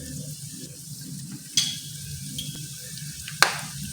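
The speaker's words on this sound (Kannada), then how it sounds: "ಇವಾಗ ಇದರಿಂದ ಚೆನ್ನಾಗಿ ಫ್ರೈ ಮಾಡ್ಕೊಳ್ಳಿ" Chana dal, urad dal, mustard seeds and a few curry leaves frying in hot oil, a steady soft sizzle with two sharp spattering pops standing out.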